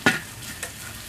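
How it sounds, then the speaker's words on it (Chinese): Garlic and chili peppers hit hot oil in a wok and are stirred, giving a sharp sizzling burst at the start that settles into a steady low frying hiss with a brief scrape of the spatula. "我们在锅里面留一点底油，然后把大蒜炒香，然后倒入辣椒茄"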